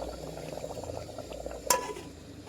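Water bubbling at a boil in a pot of mutton, cooked village style, a steady soft churning simmer with a brief sharper clink or splash near the end.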